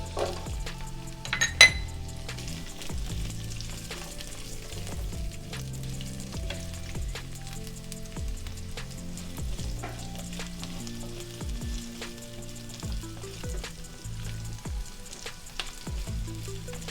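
Steady sizzling of capsicum and onion frying in a hot pan, with occasional clinks and scrapes of a utensil stirring, close and continuous.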